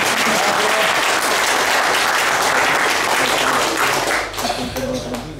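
Congress audience in Braniewo, Poland applauds the Braniewo municipality: thick, sustained clapping that thins toward the end into a few separate claps.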